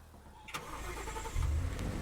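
Car engine starting with a sharp click, then a low rumbling idle that swells louder near the end, close by on a hiking trip at Mount Haraya.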